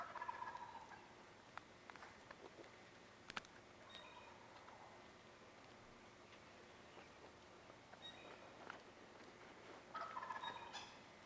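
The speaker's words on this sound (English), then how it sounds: "Having roosted this gobbling longbeard the night before, Terry used the cover of early morning" A wild turkey longbeard gobbles in the early-morning woods, a distant rattling gobble that comes and goes across a quiet outdoor background with a few small ticks and clicks.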